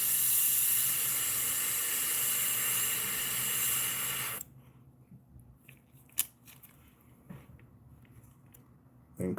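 Spray painting a fishing lure: a continuous loud hiss of spray for about four seconds, then quiet with a few faint clicks and handling noises.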